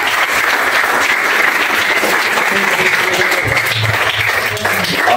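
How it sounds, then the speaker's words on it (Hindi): Children standing at the back applaud loudly for guests at the opening of a karate gym, a dense, steady burst of clapping throughout. "तालियां बजाएं"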